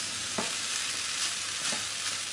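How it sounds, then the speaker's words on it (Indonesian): Fried rice sizzles steadily in a hot pan, with a loud continuous frying hiss and a few brief scraping strokes as it is stirred; no voices. "Nah ini mau kita aduk-aduk, biarkan nanti semua tercampur rata."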